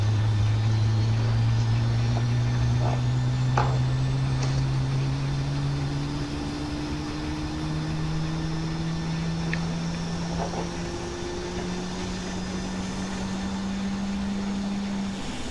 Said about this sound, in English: your left engine is running.